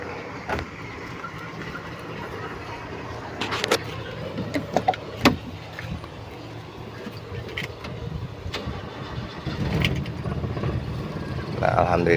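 A Toyota Kijang with a 7K engine starts and settles into idle after its emission control module is repaired. The idle is a steady low hum with a few clicks and knocks, and someone talks over it.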